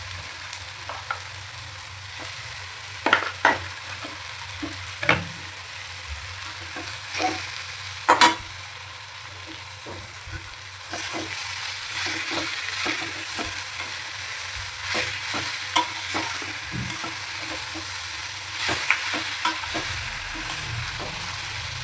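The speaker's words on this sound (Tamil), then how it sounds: "இந்த ஊற வச்ச நெத்திலியை இதில் வெங்காயம் வதங்கிடுச்சு, இதில் போட வேண்டியது" Marinated anchovies hit a pan of sautéed onions and sizzle softly while being stirred, with scattered scrapes and clicks of the spatula over a constant high hiss, close and moderately quiet, without talk.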